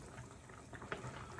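Noodles being stirred in a pot of boiling water with a little oil, soft bubbling and faint sloshing, quiet and close, with one small clink near the middle.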